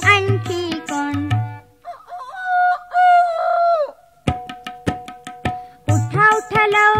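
A single drawn-out rooster crow rises between stretches of a children's Marathi song, with singing and light music before and after it.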